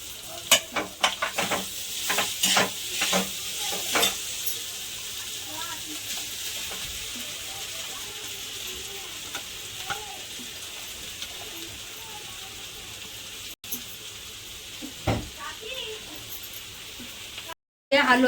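Ground green peas frying in a pan for matar kachori are stirred with a spoon, giving rapid scraping strokes at first that settle into a soft steady sizzle, with someone speaking over it.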